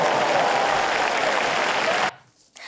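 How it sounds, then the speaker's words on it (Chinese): An event audience claps and cheers in a dense, loud wash of applause for about two seconds before it cuts off abruptly into near silence. "现场呢还是有人鼓掌欢呼"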